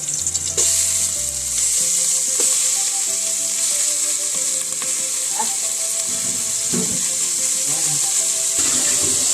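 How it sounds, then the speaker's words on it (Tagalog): Steady, bright sizzling of chicken sautéing in a hot pan, continuous throughout with occasional clinks and stirring scrapes. "Bigisa na natin yung manok."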